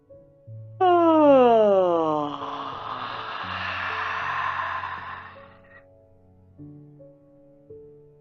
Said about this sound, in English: Yawn. Big yawn.